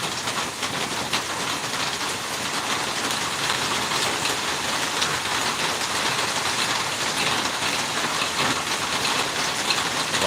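Steady rain pours down on a rainy day outdoors, a dense, even hiss of drops on surfaces that holds at the same level throughout with no talk.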